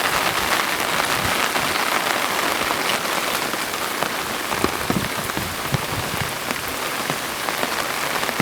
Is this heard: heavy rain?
yes